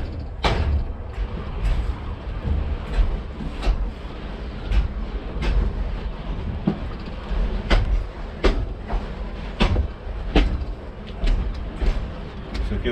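A train rolls slowly through the Pinhal railway yard in Itaara, Rio Grande do Sul, its wheels giving a regular clack at rail joints roughly every second over a low rumble, fairly near and with no voices.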